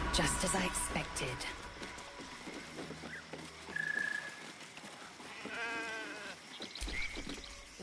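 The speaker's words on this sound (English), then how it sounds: "The sheep's voice warbles." A sheep in a video game bleats with a warbling, wavering voice, a drawn-out quivering cry set among other layered game sounds and clicks.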